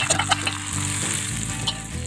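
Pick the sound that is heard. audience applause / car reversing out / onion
onion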